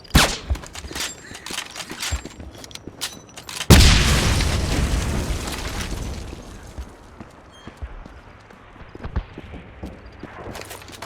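A grenade explodes in the video game Wolfenstein: The Black Sun, a sudden loud boom that rumbles and fades over a few seconds, surrounded by clattering gunfire and footsteps in a combat scene.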